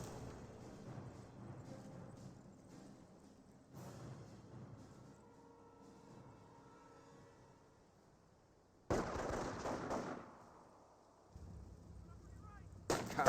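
Gunfire in a Company of Heroes match, with a World War II armoured car firing on infantry amid distant artillery-like booms and bursts, fairly faint, with two louder blasts near the end and a commentator talking over it.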